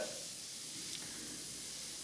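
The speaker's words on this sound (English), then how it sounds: "we are venting steam now out of the safety valve" Steam venting from the safety valve of a Wilesco D455 model steam engine, a steady continuous hiss held at an even level throughout, with no voices over it.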